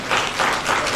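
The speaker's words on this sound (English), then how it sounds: "A bigger clap." Audience applause for the sponsor at the Jubilee Live Free Race media launch, a steady close wash of clapping from a crowd lasting about a second.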